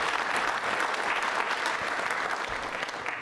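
Audience applause at a quiz show for trainee state civil service officers, a dense, steady clatter of many hands clapping loudly and continuously throughout.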